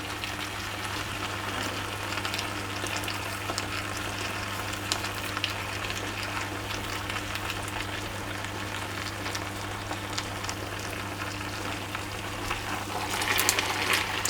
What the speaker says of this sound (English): I'm going to add in my onion. I'm just going to give that a stir.